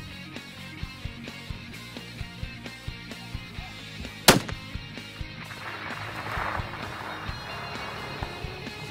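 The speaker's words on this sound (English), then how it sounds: "First two shots, we hit that antelope, small little plate, about a 4x4 plate." Long-range rifle shots fired in falling snow with a left-to-right wind, at steel plate targets around 800 yards; one sharp, loud crack stands out over a steady background of wind and rhythmic thumping.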